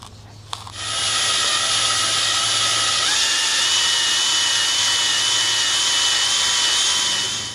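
A power sander runs steadily against a clutch flywheel's contact surface, starting with a brief click and then holding a loud, even high-pitched whir with a grinding edge for several seconds, no talk over it.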